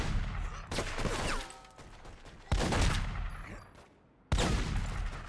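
Gunfire in The Godfather video game during a close-range fight: loud, sharp shots arrive in a few separate bursts with short gaps between them, and each burst rings out and fades away.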